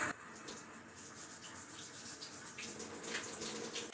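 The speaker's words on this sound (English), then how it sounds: "I'm going to give this a good scrub with my cute little potato brush." A small potato brush scrubs a russet potato, making a steady, close, soft rasping rub that runs unbroken for a few seconds, faint and without any talk.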